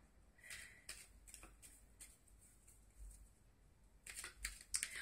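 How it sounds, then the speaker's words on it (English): Tarot cards are shuffled by hand in a quiet room, making soft, brief riffling and flicking bursts in an irregular rhythm, close but faint, with no talking. "I'm just going to shuffle to see why this page is here. I go quiet whilst I'm shuffling."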